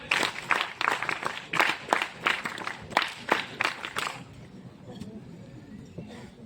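Applause from an audience at an NCC prize announcement ceremony, a run of irregular clapping bursts for about four seconds that then fades into quieter crowd murmur and faint voices.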